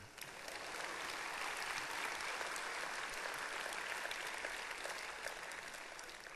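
Sustained audience applause fills a hall at the 2014 Dan David Prize Award ceremony, a steady, dense wash of many hands clapping at even loudness throughout, with no speech over it.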